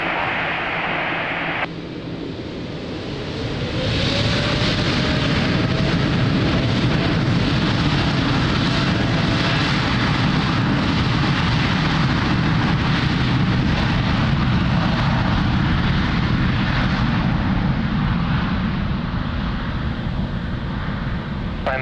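An airliner takes off from runway 02 at Lisbon Airport, its engines spooling up into a loud, broad roar that stays strong and steady for most of the span after a brief quieter start.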